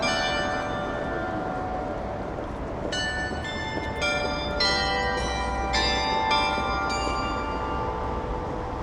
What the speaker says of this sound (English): Oh, you're hearing the bell go off now.